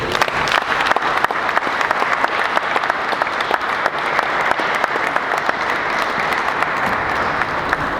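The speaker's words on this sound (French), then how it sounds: "nous voulons donner une nouvelle acclamation" Steady, sustained applause from a crowd, dense clapping throughout without pause.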